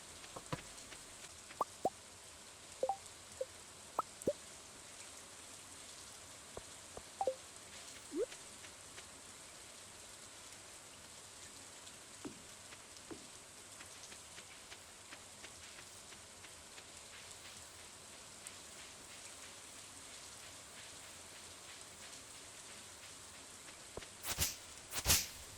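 Soft rain falls steadily in the Stardew Valley farming game, a faint even patter with scattered light plops and drips and a brief louder burst near the end, with no voices.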